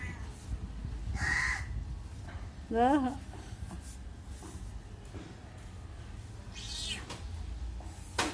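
A cat eating fish gives several close meows, including one rising, wavering cry, along with soft chewing and background sounds. People talk nearby.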